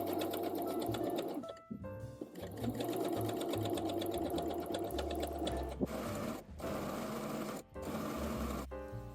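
Sewing machine stitching elastic casings on a ruched dress, close and loud, a continuous motorized hum broken by a few short stops between bursts of stitching.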